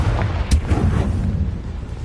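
Explosion of the Confringo fire spell in the Hogwarts Legacy video game: a deep, rumbling boom with a sharp crack early on, then a sustained low roar that fills the whole moment, with no voices.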